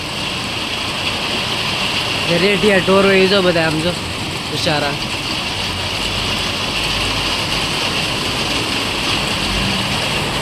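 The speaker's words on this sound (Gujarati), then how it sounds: "વરસાદ આવે છે અને પતરા છે અને ધડાધડી અવાજ આવે છે" Dense, steady roar of heavy rain drumming on a metal sheet roof in a village throughout, with someone speaking briefly over it early on.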